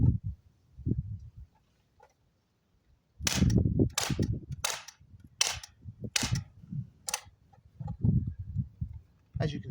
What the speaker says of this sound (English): I'm going to fire 5 rounds just with the original gas illuminator.